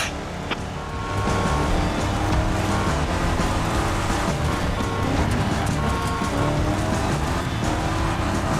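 An original 1957 Cadillac Eldorado is driven in The Crew Motorfest racing game, its engine a steady, loud, continuous drone with road and wind noise. It runs unbroken after a brief quieter start, with no talking.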